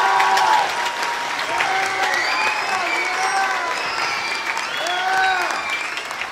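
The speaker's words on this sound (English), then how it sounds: "Let's have a round of applause for our orchestra in the back." Audience applause at a school winter concert in Claremont, thanking the school orchestra; steady, full clapping from a crowd, with some voices and cheering rising over it, loud and continuous.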